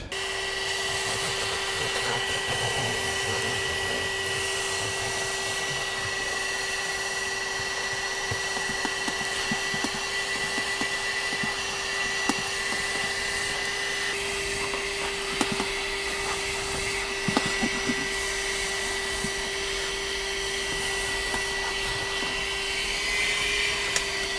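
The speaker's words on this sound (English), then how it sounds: "First, I'm gonna do vacuum the car." A vacuum cleaner drones steadily up close for a long stretch inside a Tesla Model Y, its motor whine constant, with occasional bumps and rattles as the nozzle moves around.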